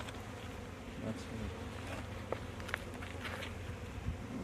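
Honey bees from newly introduced packages buzzing around hives during an inspection, a steady dense hum up close with occasional faint handling knocks.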